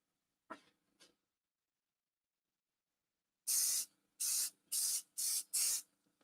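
Activator is sprayed onto a diamond painting pen: five quick, loud, close hissing spritzes in an even rhythm, preceded by two small soft knocks and otherwise silence.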